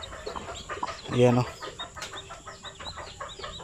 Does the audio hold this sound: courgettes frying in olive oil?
no